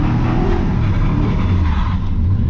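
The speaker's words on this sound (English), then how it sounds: "One second, we're doing burnouts over here." Shop truck engine revving hard during burnouts, a loud sustained roar with fluctuating throttle, close and dominant throughout.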